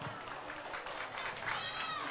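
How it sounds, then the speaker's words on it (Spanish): A school crowd claps for teachers at an Antioquian heritage celebration. Dense applause mixes with crowd voices, and a short whistle rises near the end. "denle un fuerte aplauso a todos los"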